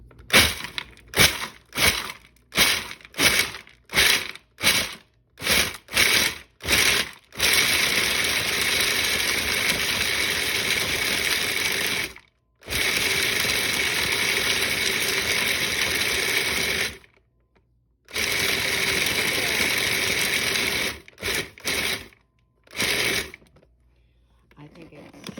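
A food processor pulses a dark chocolate, walnut and date mixture in a fast run of short bursts, then runs in longer grinding stretches with pauses between them, close and loud.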